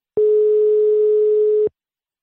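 A single steady telephone line tone sounds while a call is being placed, a constant pitched beep lasting about one and a half seconds, loud and alone, with sharp start and stop.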